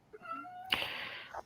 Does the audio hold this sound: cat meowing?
yes